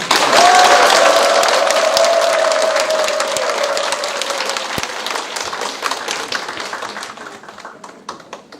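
An audience at a Korean cuisine lecture claps to welcome chef Cha Min-ho, a dense, loud burst of many hands that gradually thins and fades over about eight seconds, with no voices.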